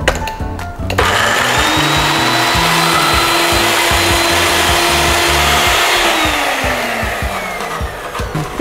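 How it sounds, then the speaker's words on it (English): A food processor grinds cashew curry paste in a home kitchen, its loud motor whirring steadily for about eight seconds after a short clatter at the start, then slowing slightly toward the end. "So I'm using a food processor because it's faster."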